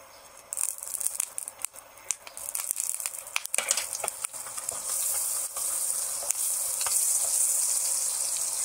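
Butter and white oil sizzle in a kadai for Kolkata street-style pav bhaji, a close hissing crackle that swells louder and steadier partway through, with scattered clatters and no talk.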